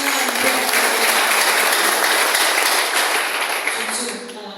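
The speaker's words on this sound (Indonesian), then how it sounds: "Tepuk tangan buat" A church congregation applauding during a sermon, a loud dense continuous wash of clapping that holds steady and then begins to taper at the end.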